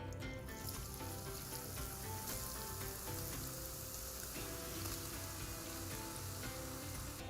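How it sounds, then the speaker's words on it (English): Grated carrots roasting in warm ghee in a pan, a dense continuous frying crackle that stays even and faint throughout with no voices. "I'm going to roast the grated carrots in it for like 2 to 3 minutes."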